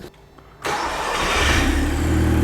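A BMW M140i engine cranks and fires into life after a quiet start, then settles into a loud, steady mid-pitched rumble close by, with no talk over it.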